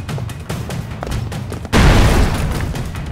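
Explosion in the side-scrolling action game Broforce bursts in loudly at about 1.7 seconds, a sudden broad boom that rumbles on to the end over a busy backdrop of earlier smaller thuds and gunfire-like pops.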